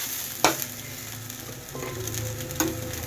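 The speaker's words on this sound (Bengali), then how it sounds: "ডাল চালটা ভাজা হচ্ছে" Lentils and rice fry in a pan for khichuri, giving a soft continuous sizzle with two sharp clatters of stirring, close and fairly quiet, with no talk.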